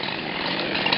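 A chainsaw works on a tall tree in the forest, a brief, steady, loud buzzing rasp heard up close with no voices.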